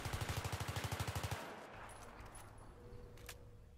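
Rapid automatic gunfire from a periscope gun in a Seine Crossing capture-the-flag map of a war video game, a loud burst of about fifteen evenly spaced shots for over a second, then low rumble and faint distant shots.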